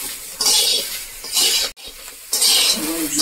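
Taro flowers are stirred in a hot, dry wok over a light fry: three bursts of scraping and sizzling, close up, separated by quieter pauses, with no voice.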